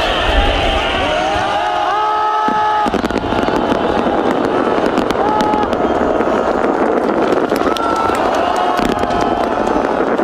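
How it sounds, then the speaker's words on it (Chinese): New Year fireworks in Pyongyang's Kim Il Sung Square: dense cracking bursts and whistling rockets rising over a loud, continuous crowd roar with cheering, heard from within the gathering. "北韩官媒在今天公布了昨天在平壤金日成广场民众庆祝新年以及观赏烟火的画面"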